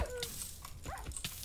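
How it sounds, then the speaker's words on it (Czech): Short yips and barks with a whimpering edge from a dog or wolf in Minecraft, a few brief calls spread over about a second and a half, moderately near amid faint game sounds. "Ne, to je pes."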